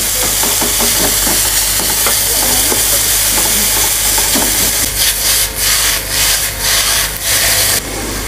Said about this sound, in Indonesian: Nah, ini setelah panas, daging cincangnya kita masukin.